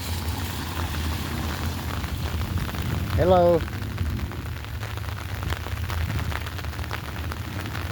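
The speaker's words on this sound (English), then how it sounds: "It's been raining all night" Heavy overnight rain still coming down outdoors, a steady broadband hiss that runs through the whole stretch, with a brief spoken greeting partway through.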